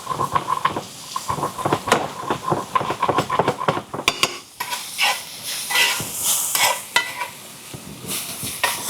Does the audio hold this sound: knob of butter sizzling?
yes